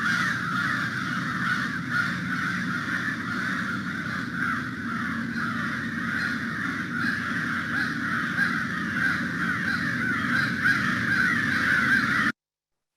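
A flock of crows mobbing, cawing continuously and harshly, many overlapping calls at once, loud and agitated, with no voices.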